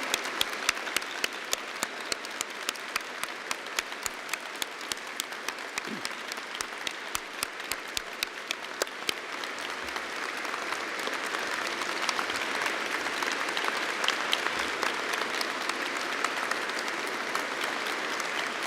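A hall full of people applauds graduates at an Ely degree ceremony, sustained crowd clapping for nearly twenty seconds, with sharp individual claps standing out early before blending into a dense, even roar that holds steady to the end.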